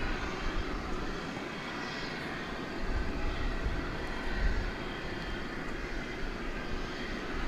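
The last MD-11 ever built, a UPS jet at DFW Airport, producing a steady, moderately loud engine roar with slight swells, continuous and without talk.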